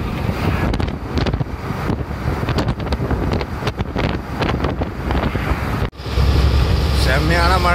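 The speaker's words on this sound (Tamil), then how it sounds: "செம்மையான மழை பெய்யுது மக்களே, காத்தோட சேர்ந்து." Heavy rain and gusting wind roar steadily during a road trip toward a factory in Hyderabad, a dense, continuous wash that briefly drops out near the end before returning louder.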